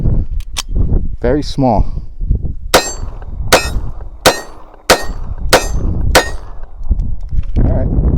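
Several sharp pistol shots ring out at an outdoor shooting range, spaced about a second apart in a steady string and loud up close, with someone talking before and after the shots.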